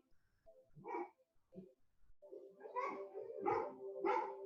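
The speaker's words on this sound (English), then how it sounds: "Sounds like" Indoor dogs bark in a few short bursts, a couple of sparse yips early, then three louder barks in quick succession, heard faintly at a distance in a quiet room.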